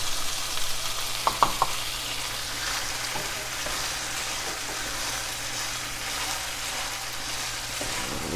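Gentle continuous sizzling of shepherd's pie filling and peas cooking in a pan, with a few clinks of a utensil early on, otherwise a steady low hiss.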